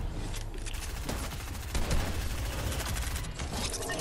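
Rapid gunfire from a weapon in Fortnite rattles out in a sustained burst of close, overlapping shots, loud and continuous from start to finish, with no talking over it.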